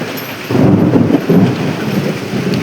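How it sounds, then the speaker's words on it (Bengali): Loud rolling thunder booms over steady rain during a storm at a jute field, rising sharply after a quieter start and rumbling on in long swells. "কি জোরে জোরে মেঘ চমকাচ্ছে দেখতে পাচ্ছেন,"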